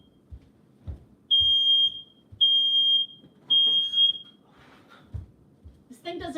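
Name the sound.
smoke alarm going off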